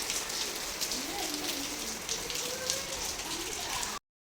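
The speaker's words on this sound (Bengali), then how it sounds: "চলে আসলো বৃষ্টি।" Rain falling steadily on surfaces nearby, a dense even patter with a faint voice murmuring underneath, ending abruptly.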